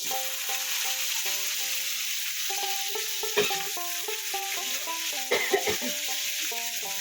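Taro stalks fry in a pan with a constant close sizzle, broken by a few sharp scrapes and clanks from stirring. Faint steady tones sound in the background.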